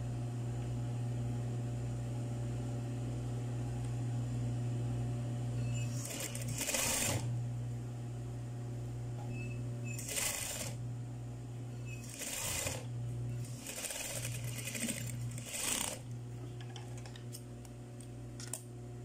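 Sewing machine stitching the center of a cloth face mask, a steady mechanical whir with intermittent clattering bursts as the fabric is moved, close and with no talk.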